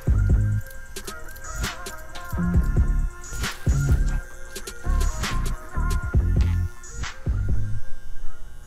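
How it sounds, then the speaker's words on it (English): Andis Masters hair clippers buzz in close bursts during a mohawk haircut, a steady electric hum that starts and stops as the blades are worked through hair. "I'm just taking my Andis Masters all the way open"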